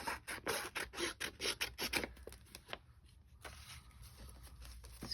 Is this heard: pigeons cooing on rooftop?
no